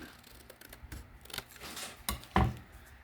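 Paper envelope cut with scissors, several soft snips and rustles leading to one sharp, close metallic snip near the end, with no talk.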